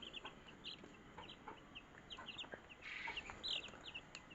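Young chicks on a poultry farm cheep and cluck in quick, scattered bursts, a busy flock of small high calls heard close and fairly soft over a faint background hiss.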